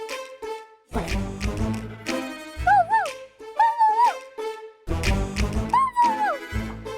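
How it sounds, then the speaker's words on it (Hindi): A dog howls inside a palace in several drawn-out, wavering cries broken by short gaps, fairly close and loud, with some barking-like bursts between. "कुत्ते की आवाज महल में?"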